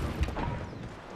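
A short mechanical clatter of a weapon being reloaded in Apex Legends, a quick metallic click and rattle lasting about a second, close and moderately loud.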